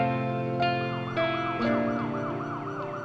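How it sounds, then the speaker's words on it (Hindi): An ambulance siren wails close by in an Indian street scene, its tone rising and falling in a steady repeating sweep, loud and alone with no talk over it. "एम्बुलेंस"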